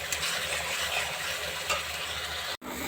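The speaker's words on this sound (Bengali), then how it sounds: "মশলাটা খুব ভালো করে কষা হয়ে গেছে" A spice masala is sautéed and stirred in a pan while a potato and egg dish is cooked, making a continuous low sizzle with scraping stirs and a sudden brief cut near the end.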